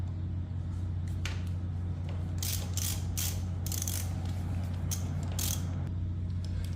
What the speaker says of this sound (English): Now using a 14, we're gonna break the nuts that hold the brake caliper on.